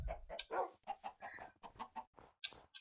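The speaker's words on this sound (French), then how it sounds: "Là nous avons des poules." Chickens cluck in a survival video game, a string of short, close clucks that repeat steadily with small gaps, with no one talking over them.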